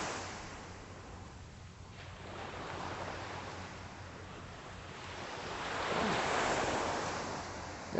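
Calm Atlantic Ocean waves wash ashore at Deerfield Beach, Florida, at sunrise in a light breeze, a soft continuous surf hiss that swells into a louder surge near the end, with some wind rumble.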